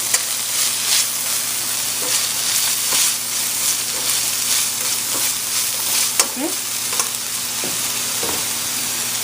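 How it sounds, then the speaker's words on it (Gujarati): Ginger frying with onion in a pan while being stirred, a steady moderate sizzle with scattered spatula scrapes and taps throughout. "એને આપણે જરાક હલાવશું કે આદું જરાક ફાઇન આમ એની સુગંધ નીકળે આદુની"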